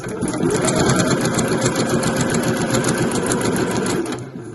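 A sewing machine runs steadily, stitching binding down onto a mesh laundry bag, a fast even whirr that holds for a few seconds before slowing to a stop.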